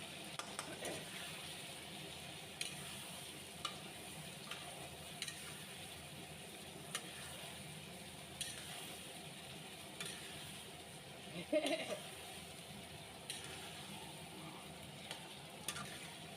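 Spice paste fries in a pan for a Bengali potato curry, giving a soft, steady sizzle with occasional faint clinks and stirring taps.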